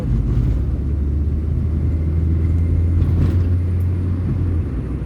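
A Mitsubishi Lancer with an automatic gearbox that shifts harshly accelerates through its gears, producing a steady low engine drone and road rumble with no clear breaks between shifts.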